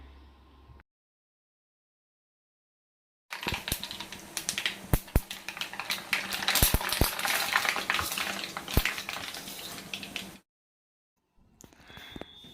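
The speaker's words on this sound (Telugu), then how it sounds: "తాలింపు సామాగ్రి అన్నీ కూడా ఒక్కొక్కటిగా వేసుకుని మంటని లో ఫ్లేమ్లో పెట్టుకొని వేయించుకోవాలండి" Tempering spices sizzle and crackle in hot oil in a kadai over a low flame, a dense close frying hiss with sharp pops and spatters, heard alone for several seconds between silent gaps.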